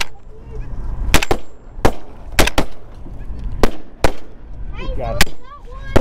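Several sharp, loud 20 gauge shotgun blasts fired at snow geese, spaced irregularly, with geese honking overhead and voices calling between the shots.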